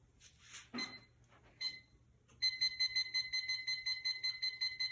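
A kitchen timer beeps rapidly and repeatedly while bread bakes, a bright steady electronic pulse that starts about halfway through after a few faint clinks and rustles of kitchen handling.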